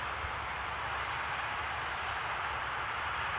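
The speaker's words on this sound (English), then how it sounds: "we did hear the reversers" Airliner thrust reversers roar during landing at Amsterdam Schiphol Airport, a steady broad rushing jet noise that stays loud and even throughout, heard from up close with no voices.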